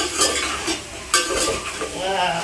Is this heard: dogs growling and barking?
no